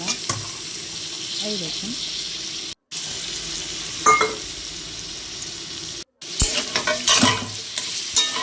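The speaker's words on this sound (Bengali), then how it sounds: "তারপর সেগুলোকে ভালোভাবে নেড়ে চেড়ে ভেজে নিয়েছিলাম" Spices with garam masala, onion, chilli, tomato and bay leaf for a magur fish and potato curry being stirred and fried in a pan, a close continuous sizzle with scraping strokes and a brief spoken remark.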